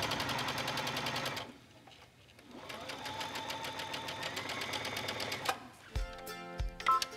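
A sewing machine stitches a French seam on chiffon in rapid, even bursts of mechanical clatter that pause briefly, resume, then end with a few clunks of the mechanism.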